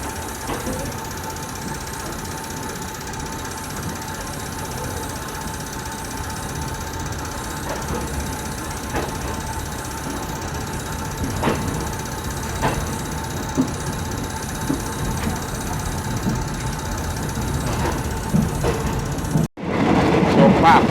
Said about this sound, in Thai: ตอนนี้กำลังเคลื่อนที่ออกจากสถานีรถไฟชุมพรนะฮะ